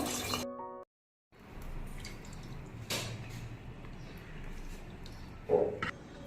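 Pangas fish tel jhal, an oily Bengali fish curry, is poured from a pan into a serving dish, giving soft wet drips and squishy splatters over a faint, quiet background.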